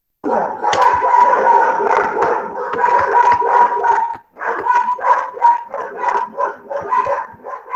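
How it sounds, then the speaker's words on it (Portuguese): A dog barks repeatedly outdoors, loud and close, in rapid irregular bursts with a brief pause midway, some barks stretching into howl-like yelps. "E hoje não é nem dia de lixeiro para ele estar latindo."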